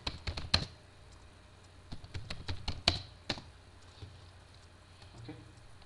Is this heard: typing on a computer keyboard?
yes